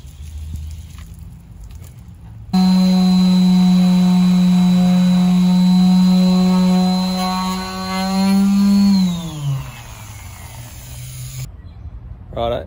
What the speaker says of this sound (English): 1200 wet sand, here we go.